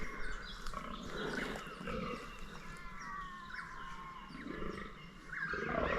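A fallow deer buck groans during the autumn rut in thick cover, giving deep, rough, repeated belching calls. The calls come from a moderate distance and are fairly faint, over outdoor background noise with some birds.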